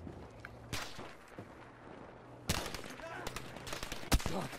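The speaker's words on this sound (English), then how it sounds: "Oh my god, I'm getting shot from everywhere!" Scattered gunfire in the Battlefield V video game, sharp shots from several directions with a couple of louder near bursts over a steady low background hum, with occasional talk.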